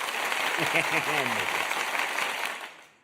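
Clapping in support of the Red Sox runs under a voice on a live stream. The hand claps are steady and close, then fade out near the end.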